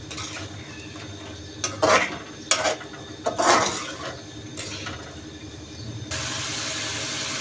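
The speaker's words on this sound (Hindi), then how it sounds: "अच्छे से मिक्स करेंगे और मिलाई करेंगे" Bhindi gosht curry with added milk is stirred in a pot, with a few clattering scrapes of a spoon against metal over a low steady cooking rumble that swells into a louder hiss near the end.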